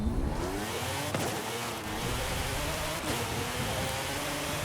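A lifted off-road Porsche with off-road tires, driven in Forza Horizon 5, roars with a continuous loud engine note and a gritty wash of terrain noise, punctuated by a couple of sharp knocks as it bounces along.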